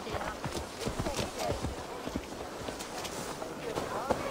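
Horse hooves clip-clop at a steady trot in the video game Assassin's Creed Valhalla, rhythmic thuds over game ambience with a person talking.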